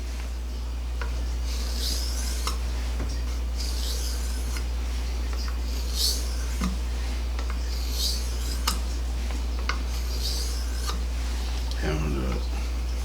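Knife blade drawn across the polishing side of a whetstone in repeated soft, raspy strokes, roughly one every second or two, close and fairly quiet over a low steady hum.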